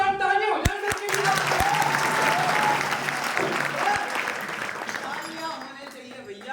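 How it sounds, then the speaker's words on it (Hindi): Enthusiastic applause from a crowd, dense clapping that rises and fades, with a voice speaking over it at times. "यार एक बार जोरदार तालियां हो जाए सबके लिए।"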